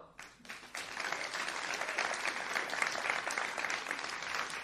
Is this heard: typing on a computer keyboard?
no